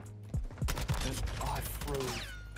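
Several quick pistol shots in a first-person shooter, sharp cracks spaced a fraction of a second apart, close and punchy amid other game noise.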